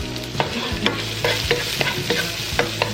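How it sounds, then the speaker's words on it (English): Onions sizzle steadily in a hot pan while a utensil stirs and scrapes them in repeated strokes, loud and close, with no talking. "we've got our onions cooking over here as well"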